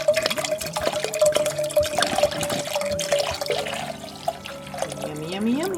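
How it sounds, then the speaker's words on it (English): Red wine poured from a bottle into a saucepan for mulled wine, a close liquid gurgle and trickle running throughout with a rising glug near the end, light kitchen clatter around it. "Now add 1 bottle of red wine into a saucepan."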